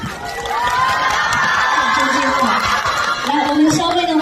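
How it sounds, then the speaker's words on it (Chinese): An audience at a film roadshow with Leung Ka-fai and other cast members cheers and claps in a dense, continuous crowd roar, while an amplified voice talks over it. "来，我们掌声持续一点，给你们3秒钟时间，再次欢迎5位主创"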